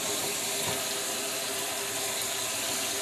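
Tap water runs steadily into a mason jar of sprouting mung beans to rinse them from the bottom, a constant close splashing flow with no talking.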